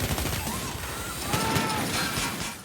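Gunfire in a chaotic police shootout from Money Heist: dense, overlapping bursts of shots with crashing impacts, loud and close, with faint shouting mixed underneath.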